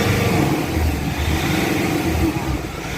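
A Nissan Calibre engine with throttle delay, a transmission humming fault and weak pull revs up close by, a loud, continuous low rumble that rises and wavers for a few seconds.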